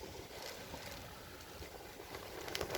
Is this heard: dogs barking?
no